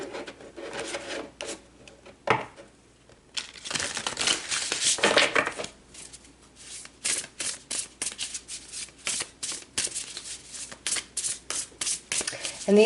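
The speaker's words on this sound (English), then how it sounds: "So let's pull some more cards." Tarot cards shuffled by hand, a long riffling rush followed by quick repeated slapping shuffles in a steady rhythm, close and crisp, with some talking.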